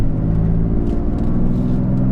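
A 2018 BMW M3 Competition engine running in Sport Plus mode gives a steady, loud, low rumble with a continuous throaty drone that holds even throughout, with no speech over it.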